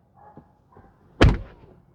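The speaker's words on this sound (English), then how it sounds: "let's see what happens when I open the door." A Tesla car door opens with a few soft clicks, then one sharp, close thunk of the latch and door, with no voices.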